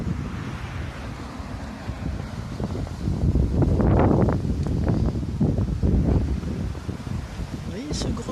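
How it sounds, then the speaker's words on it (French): Cold winter wind gusts buffet the microphone in loud rumbling surges that swell and fade, strongest in the middle, with a person talking between the gusts. "Un bon vent d'hiver bien glacé."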